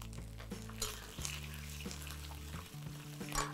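Steady sizzling of cashews frying in hot oil in a pan, continuous and close, with occasional faint clinks and stirring sounds.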